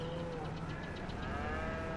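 A cow struck by a drunk driver lets out a long, drawn-out moo, steady and fairly distant, over a constant low background rumble with no talking.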